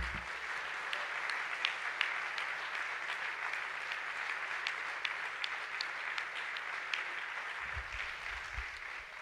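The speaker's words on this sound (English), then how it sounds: "Can we all clap hands?" A church congregation claps together in a steady, dense patter of many hands for the whole stretch, moderately distant with some room echo, and no one speaks over it.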